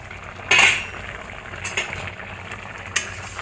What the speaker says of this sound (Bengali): একটু নাড়িয়ে দিচ্ছি লাউটা।